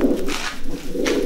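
Cooing from a racing pigeon in a loft of Jansen-line birds comes in a low throaty murmur, mixed with brief rustling or flapping bursts, fairly loud and close.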